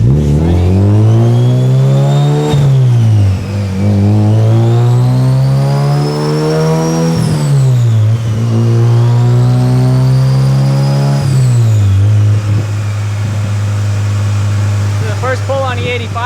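A turbocharged Honda B16 in an EK hatchback, running E85 ethanol at 8.5 psi boost, makes a fourth-gear pull on a dyno. The engine climbs loudly in rising revs, drops back, climbs again and settles at the end, with talk underneath.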